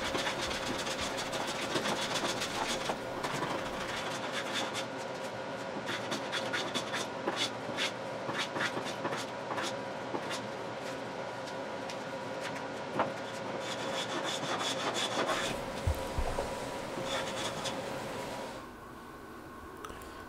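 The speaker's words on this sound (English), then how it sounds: "I'm here flushing it up with a jack plane, starting in the corners and then working my way up and down the sides." A jack plane and then a sander flush glued wood joints on a cabinet, giving steady scraping and rubbing strokes with sharp ticks throughout, close and continuous until it quiets near the end.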